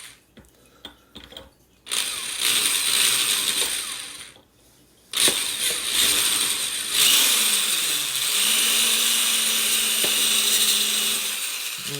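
A power drill with a 3/16 inch bit whirs into the tube of a Crosman 1377 air rifle, opening it slightly; a few clicks lead into two bursts of steady drilling separated by a brief pause.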